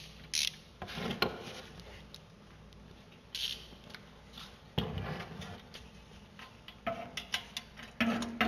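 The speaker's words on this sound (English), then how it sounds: "we are going to use a torque wrench to 25 foot-pounds of torque" Torque wrench tightening bolts while mounting parts on a hybrid remote control mower, a series of close ratcheting clicks in short bursts separated by quiet pauses.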